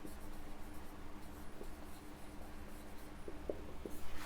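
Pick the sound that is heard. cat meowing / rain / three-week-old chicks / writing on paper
writing on paper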